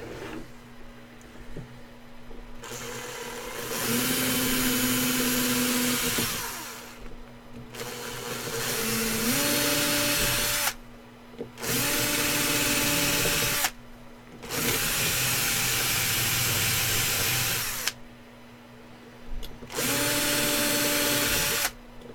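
Power drill fitted with a bent drill bit boring through material while building a glass construct, running in several loud sustained bursts with short pauses between, its whine shifting pitch as the bit bites.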